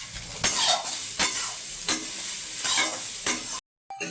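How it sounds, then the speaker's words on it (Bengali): Soybean chunks fry in hot white oil in a wok, a steady loud sizzle broken by several scraping stirs of a spatula, ending in a brief pause of silence. "সোয়াবিনটা একটু ভেজে নেবো, কড়াইতে সাদা তেল দিয়ে দেবো"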